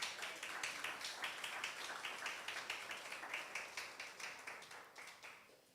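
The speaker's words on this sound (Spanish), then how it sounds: "¿cuántos le dan una ofrenda de aplauso a nuestro Dios?" A church congregation at a Spanish-language worship service claps together in a steady, even rhythm, about three or four claps per second, quiet and somewhat distant, continuing for nearly six seconds.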